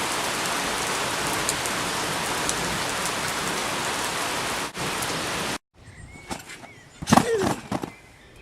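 Steady monsoon rain pours down as a dense, continuous hiss that fills most of the stretch, then cuts out abruptly and gives way to scattered softer drips and knocks near the end.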